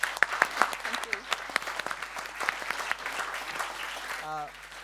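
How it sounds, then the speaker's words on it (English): Conference audience applause: a dense burst of clapping rings out close and loud for several seconds, then thins as a voice begins speaking at the end. "Another round of applause, please, to Lindsay"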